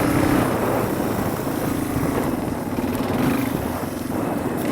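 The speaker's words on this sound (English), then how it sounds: "Learning how to ride a motorcycle." A learner rides a motorcycle, its engine giving a steady, continuous drone with a low hum throughout, fairly loud and close, with no talking.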